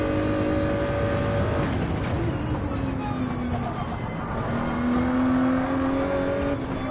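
A race car at speed on track during a WEC qualifying session, its engine note rising and falling steadily through the laps, fairly loud and continuous with no talk over it.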